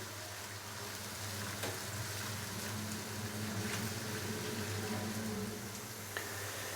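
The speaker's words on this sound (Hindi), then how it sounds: "तो अभी हम प्याज को लाइट ब्राउन होने तक फ्राई कर लेंगे" Finely chopped onions fry toward light brown in a pan, giving a soft, steady sizzle with occasional faint clinks of stirring, fairly quiet and uninterrupted.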